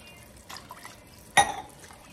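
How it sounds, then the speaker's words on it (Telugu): Water is poured onto soaked tamarind for beetroot rasam, making one short, close splash around the middle, with faint trickling before it and quiet dripping afterward. "సో ఇందులో కొంచెం పడుతుంది కొన్ని వాటర్ వేసుకుంటున్నాను"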